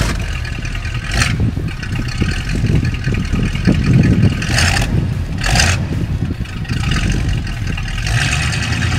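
A 1966 Ford Mustang, a light classic car, rumbles through a startup and repeated revs, the low engine roar steady and close with several sharper bursts, no voices over it.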